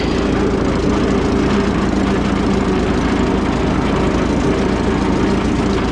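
A tractor engine idles loudly and steadily up close, a continuous low rumbling drone with no variation and no talking.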